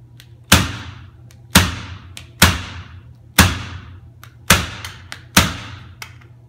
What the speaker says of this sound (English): We're shooting directly into the tack strip.